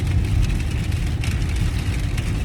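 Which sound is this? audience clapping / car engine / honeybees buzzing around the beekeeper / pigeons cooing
car engine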